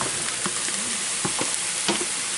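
Mushrooms sizzle loudly in a hot pan with onions and garlic, a dense steady frying hiss with a few soft stirring scrapes, close up and with no talk.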